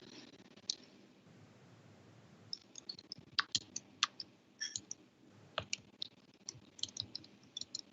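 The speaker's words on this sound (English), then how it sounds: "I'm typing a question for you" Scattered clicking keystrokes on a computer keyboard, quiet and irregular, coming in short bursts over a faint background hiss.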